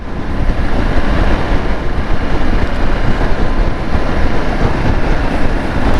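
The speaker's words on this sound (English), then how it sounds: "today is a fair wind" Heavy, constant wind roar buffets a helmet microphone on a motorcycle ride through misty winter valley roads. The noise is loud and unbroken, with no talk.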